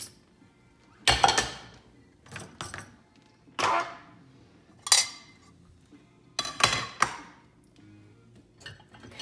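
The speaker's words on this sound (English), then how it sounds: "Now we're to the silverware." Silverware and dishes are handled and put away at home, with several separate bursts of metallic clinking and clattering spaced a second or two apart against quiet pauses.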